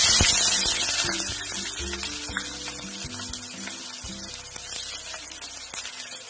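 Chopped onions drop into hot oil already seasoned with bay leaf and whole garam masala, sizzling and frying in a pan for a dhaba-style chicken dish, a steady close hiss with light clatter and no talk.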